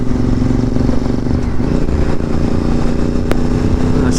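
A Honda VTR 1000 motorcycle rides along with a loud, steady V-twin engine drone, close and continuous with slight rises in revs and a brief clatter midway.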